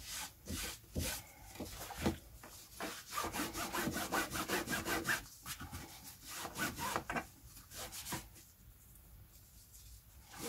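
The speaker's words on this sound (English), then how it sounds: "Take a scrap bit of the same fabric and you rub it against," A scrap of fabric is rubbed briskly against the same fabric, making rapid rhythmic scratchy strokes up close that come in bursts with short pauses between them.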